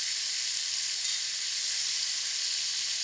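Ground cumin, red chilli powder, salt and turmeric fry with tomato paste in a pan for a pea curry, giving a steady, loud, close sizzle that runs unbroken throughout with no talking.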